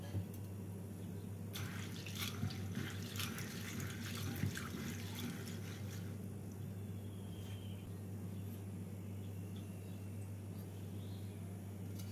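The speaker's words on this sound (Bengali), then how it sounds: "এই সয়াবিন দানাটাকে আমি ভালো করে ধুয়ে 5 থেকে 6 ঘন্টা ভিজিয়ে রেখে দেব" Soaked soybeans being washed in water, with running tap water splashing and trickling steadily, louder for a few seconds before settling into a quieter flow over a low, constant hum.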